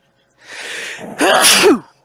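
A single loud, close sneeze: a sharp breathy intake followed by a bursting explosive release, then silence.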